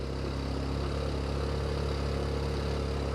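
A motorcycle engine climbing a steep hill road in first gear on the outskirts of Chiang Mai, a dense steady droning rumble, close and constant throughout with no talking.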